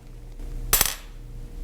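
A glass marble taps once against a glass pane, testing whether it is tempered glass, giving a single bright, sharp click with a quick double ring in an otherwise quiet room.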